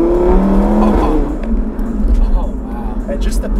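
Stage 3 Audi RS3, 510 hp, in Nardo Grey, with a snappy transmission; a loud engine roar climbs and drops through gear changes over a steady low rumble, with a voice speaking over the first half.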